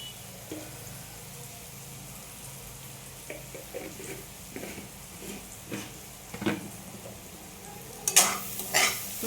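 Turmeric goes into a frying pan and is stirred while cooking Maharashtrian pithla, with soft oil sizzle and scraping spoon strokes, then sharper crackling spatters near the end.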